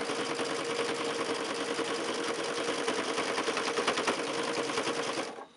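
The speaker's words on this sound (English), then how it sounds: "You just sort of top stitch it along." Sewing machine top stitching along a quilt block seam, a steady, fast mechanical whir and rapid needle clatter running continuously and close for about five seconds before stopping abruptly.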